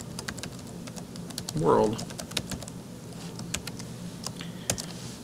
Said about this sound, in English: I'm just going to type in hello